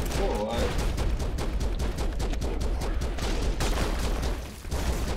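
Rapid continuous gunfire from Ripley's weapon in the video game Broforce, a dense loud barrage of shots filling the whole stretch with no gaps, and a voice talking briefly over it.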